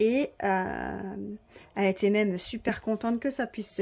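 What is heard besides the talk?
No everyday noise stands out behind the speech.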